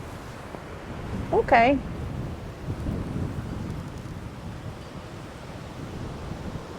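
Gusty wind rushes steadily outdoors beside a wild roan mustang being brushed, a low blustery roar running the whole time, with a brief spoken word and a short louder burst near the start.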